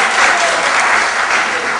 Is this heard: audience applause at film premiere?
yes